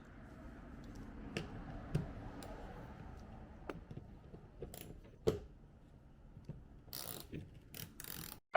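Reflector screws come out of a Ford Mach-E, a quiet series of ratcheting clicks and small metallic ticks from a hand tool, close by, with sharper clinks near the end.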